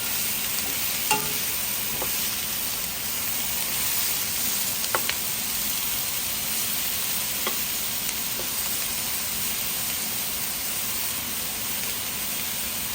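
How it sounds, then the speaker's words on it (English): Shallots fry in a pot for Lao rattan soup while being stirred, giving a continuous close sizzle with occasional utensil scrapes and taps against the pot. "stir it and wait for the shallot to get a little bit translucent."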